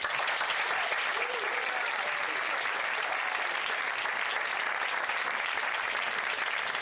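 An audience at an International Day of Human Rights event applauds two university student performers with loud, continuous clapping that stays steady and dense throughout, with no voices standing out.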